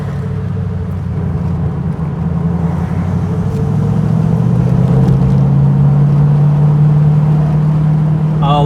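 A V8-engined car cruising through a small Derbyshire Peak District town, its deep, steady engine rumble rising slightly in pitch as it pulls along, loud and close throughout.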